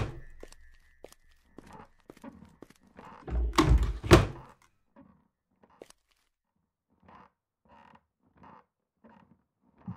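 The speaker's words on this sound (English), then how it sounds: "what's that creaking?" Creaking and a heavy thunk in a horror video game, with a loud burst of creaking and knocking in the middle and faint scattered creaks and taps before and after, no voices.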